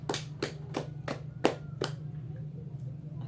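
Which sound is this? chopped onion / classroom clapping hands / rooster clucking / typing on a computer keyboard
classroom clapping hands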